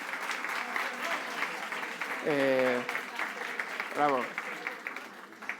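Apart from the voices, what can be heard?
audience applause at a cultural event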